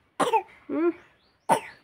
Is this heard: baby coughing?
yes